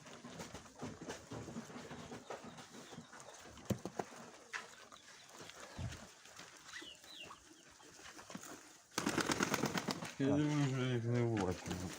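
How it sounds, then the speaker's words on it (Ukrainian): Pigeons coo softly amid faint rustling and background noise, then someone speaks loudly near the end. "Це молоді кермаки, Андрій."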